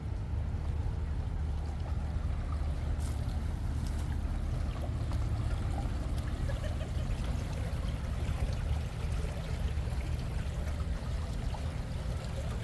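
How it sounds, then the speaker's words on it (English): Creek water rushing steadily beneath a bridge in downtown Kelowna, a continuous broadband wash of flowing water close by with no talk over it. "We'll see more of the creek from over here too."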